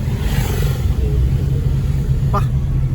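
Road traffic of cars and motorcycles at a busy street under a large peepal tree, a steady low engine rumble throughout with a brief higher whine near the end, under people talking.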